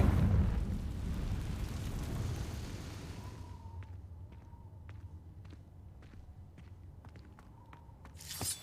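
In Hogwarts Legacy, a Confringo fire-blast spell explodes with a loud, deep rumbling burst that fades over about three seconds, followed by quieter game sounds including soft footsteps.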